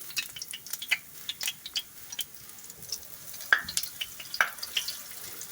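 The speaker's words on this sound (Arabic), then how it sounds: "الزيت سخن معايا اهو بيقول لي انجديني" Tilapia fries in hot oil, giving a steady crackling sizzle with a scatter of sharp pops and spits. The sound is close and moderately loud, with no talking.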